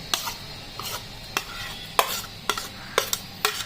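Marinated chicken pieces are stirred into batter in a bowl, giving a close run of soft, wet clicking and squelching strokes at a steady, uneven rhythm, with no voices.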